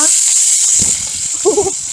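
Pork intestines and green onions sizzle in hot frying oil with a steady, bright hiss throughout, while a person talks nearby over the frying.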